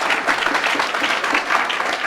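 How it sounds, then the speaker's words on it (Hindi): Audience applause in a hall at a Bihar excise sub-inspector success gathering, a steady wash of many hands clapping at even loudness for the whole stretch, with no voices on top. "एक बार जोरदार ताली उसके लिए"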